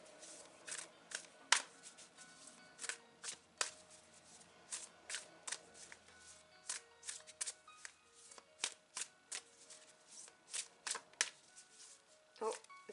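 Tarot cards are shuffled and drawn by hand during a reading, giving a steady series of crisp riffling slaps and flicks up close, with a voice talking quietly underneath.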